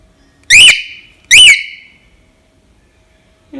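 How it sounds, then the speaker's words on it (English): Two male cockatiels give two loud, bright whistled calls, each a short rising-and-falling note, about a second apart, with near silence around them. "Here are the 2 cockatiels."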